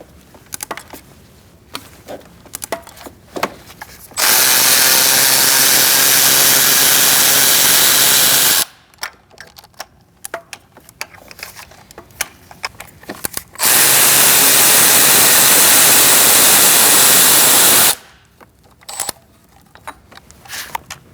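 A power tool with an E10 socket spins out engine bolts on a 2008-2014 Mercedes-Benz C300 3.0L V6, two loud sustained whirring bursts of about four seconds each, separated by clinks and handling noises of tools and parts.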